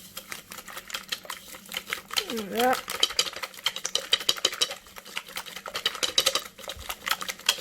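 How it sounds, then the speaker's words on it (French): Apple kouglof batter being stirred by hand in a bowl, a busy stream of scraping and clinking utensil sounds running steadily under a woman's French speech. "Je vais mélanger."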